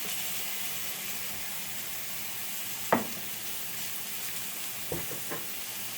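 Canned mushrooms sizzle quietly in a pan for shrimp fried cauli-rice, a soft steady frying hiss broken by one sharp spatula scrape and a few lighter stirring knocks later on.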